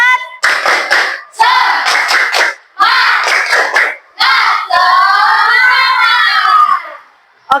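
Children in a classroom clap out a rhythmic spirit chant in several short loud bursts, hands slapping in unison with shouted voices, ending in a longer cheer.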